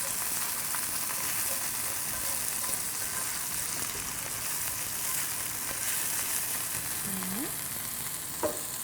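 Softened onions and a little garlic fry in a pan, giving a steady, dense sizzle that runs throughout with a faint clink near the end.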